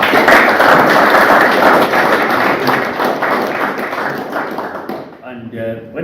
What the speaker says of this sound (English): I believe we deserve a round of applause for that.